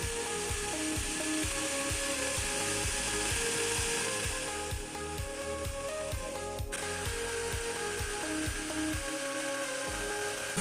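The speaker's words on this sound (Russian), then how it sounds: "начинаю вырезать лобзики." A jigsaw cuts a sanded wooden board for a Scandinavian gnome, a rapid rhythmic chattering buzz, close and steady, with a brief pause near the end.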